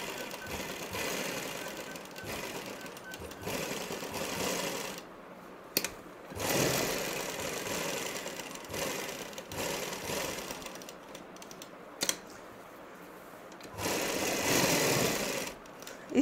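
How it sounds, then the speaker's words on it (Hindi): A sewing machine stitches cut work on a salwar in several runs, a close steady whirring rattle that starts and stops with short pauses between bursts, no talk. "इसी तरह हम गोलाई में इसे सिल लेंगे।"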